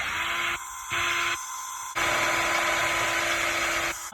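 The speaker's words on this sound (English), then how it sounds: "Taking the carbide tip, and I'm going to drill holes." A high-pitched power drill with a carbide tip whines in bursts, drilling holes in knife steel, stopping and restarting twice before a longer steady run; close and loud, no talking.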